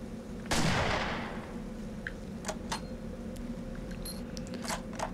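A single loud gunshot rings out at a cougar in Bass Pro Shops Trophy Hunter 2007, a sharp blast with a decaying echo, followed by faint clicks over a low hum.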